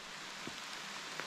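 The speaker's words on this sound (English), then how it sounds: "Raining." Rain falls at a hiking campsite before dawn, a soft, constant patter and hiss that stays faint and even throughout the short moment, with no voices.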